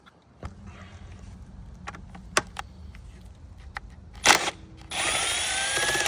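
A Milwaukee power tool with a 10 mm socket backs a bolt out of a cover on a 2018 Jeep Grand Cherokee 3.6L, with a few short clicks and taps and then a loud, steady close-up whir in the final second.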